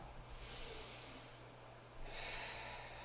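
Slow, close breathing during a Pilates class: a long inhale followed by a longer, airy exhale, quiet and unaccompanied by speech.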